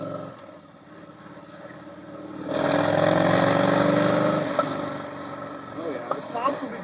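Yamaha Bolt motorcycle engine rising to a loud, steady drone as it accelerates, then settling with a few sharp exhaust pops near the end; a voice talks briefly over it.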